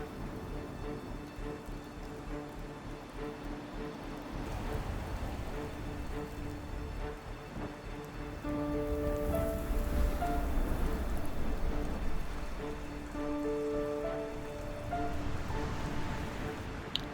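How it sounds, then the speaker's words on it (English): Steady rain falls on a campsite while boondocking near Mount Shasta amid a storm, a continuous soft patter of drops with wind, with brief tonal sounds and faint movement audible partway through. "it has started raining"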